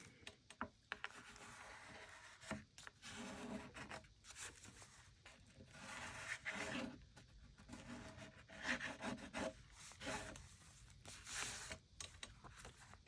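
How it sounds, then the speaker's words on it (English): A bone folder rubs around inside a handmade journal cover between signatures, giving soft continuous rasping and scraping strokes with frequent short bursts, close and fairly quiet, with no voices. "I get my bone folder in there and kind of rub around"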